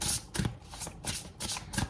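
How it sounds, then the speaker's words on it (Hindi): Tarot cards are shuffled in quick, crisp bursts, about five riffling swipes close up in under two seconds, with no talking. "एक बार और शफल करूंगी यूनिवर्स"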